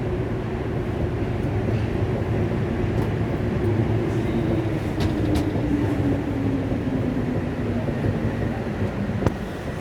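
Metro train riding on the Paris underground, heard from inside the car: a loud, steady rumble and rail roar with a faint whine gliding down partway through, continuous throughout with no talk.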